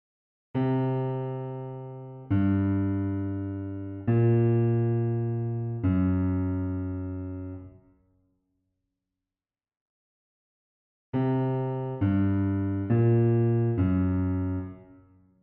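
Slow piano chords of an indie game theme ring out one after another, a pause of silence, then another short run of chords, each decaying gently.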